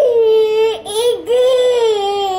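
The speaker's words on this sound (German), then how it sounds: "du kannst weinen, aber bitte nicht so laut." Small child crying loudly and continuously in a long, wailing sob that dips briefly before rising again, close and dominant.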